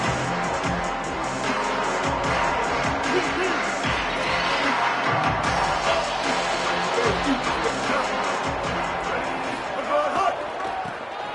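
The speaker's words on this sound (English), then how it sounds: "Night games are always so loud, so obnoxious, and these fans, they get something to cheer about with that first offensive possession." Stadium crowd at a night college football game, a steady loud roar and cheering with thuds, running continuously under a commentator's voice.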